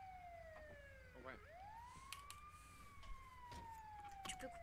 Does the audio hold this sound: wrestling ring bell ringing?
no